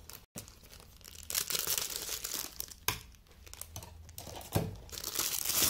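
Plastic packaging around a silicone mug lid being cut open, with close, continuous crinkling and tearing of wrapper, sharp rustling bursts and a few louder crunches, no talking.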